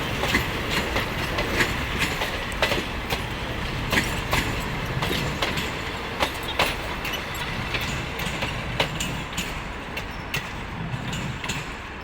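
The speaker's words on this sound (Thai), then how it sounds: "เป็นชุดรถโดยสารขบวนหนึ่งนะครับ คาดว่าอาจจะเป็นชุด ขบวนรถเร็วที่ 139 สำหรับค่ำคืนนี้ครับ" A Thai passenger train, thought to be rapid train 139, passes at night with a steady close rumble and a regular clickety-clack of wheels over rail joints throughout.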